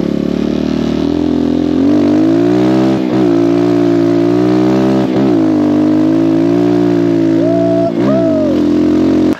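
A new 2024 CRZ ERZ 250 Pro 250cc motocross bike engine runs loud and close, a steady buzzing drone with repeated short revs and dips throughout.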